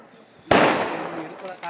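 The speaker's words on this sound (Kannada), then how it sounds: "ಪಟಾಕಿ ಹೊಡಿತಾ ಇದ್ದಾರೆ ಗೈಸ್, ಐಸಲ್ಲ" A firecracker bursts loudly and suddenly at a New Year celebration, its crackle lingering and fading over about a second before another pop begins.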